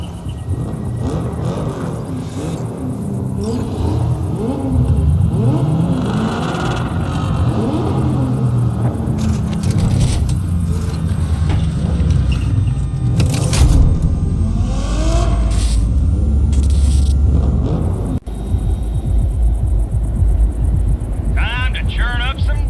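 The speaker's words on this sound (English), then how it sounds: "Start your engines, folks." Car engines in Cyberpunk 2077 start up and rumble as a convoy sets off across a desert, a steady loud low drone swelling and revving throughout, with characters talking over the engines.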